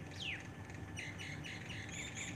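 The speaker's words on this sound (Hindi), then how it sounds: "पक्षियों की मधुर चहचहाहट" Small birds chirping outdoors under an open morning sky, with a quick falling whistle followed by a run of repeated bright chirps over a soft steady background.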